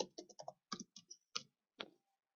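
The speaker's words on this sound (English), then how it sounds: "I'm going to type in Updraft." Fingers tap out a short word on a computer keyboard, about nine quick, close, crisp key clicks in an irregular rhythm, then quiet.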